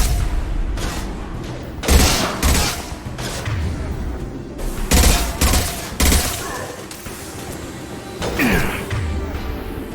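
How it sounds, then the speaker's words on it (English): Repeated heavy blasts from the impact shot weapon in Mass Effect 2, loud booming shots spaced a second or two apart with rumbling tails and crashing debris between them. "Firing an impact shot!"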